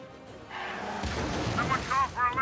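A powerful gun fires in the video game Uncharted 4: A Thief's End, producing deep booming blasts that swell and rumble, with someone speaking over the shots.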